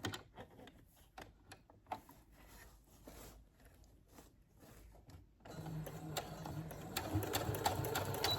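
A sewing machine stitches the folded edge and pallu of a saree, starting as intermittent short bursts of needle runs and then running steadily and louder in the second half, close and alone.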